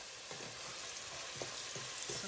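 Onions sizzle and fry in a pan for ugali and sukuma wiki, a steady crackling hiss close by, with a few soft stirring scrapes and no voices.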